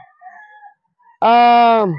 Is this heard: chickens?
yes